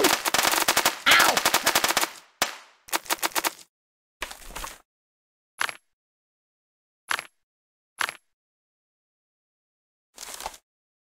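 Machine gun fire in the mobile game Kick The Buddy, a long loud burst followed by shorter rapid bursts and then sparse single shots separated by silence.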